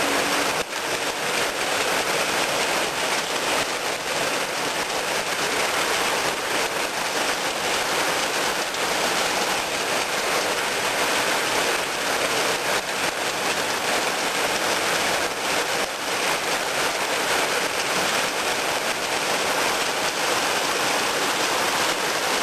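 Steady rain pours down outdoors in Japan, a dense, even hiss of drops on surfaces that stays constant and loud throughout with no voices.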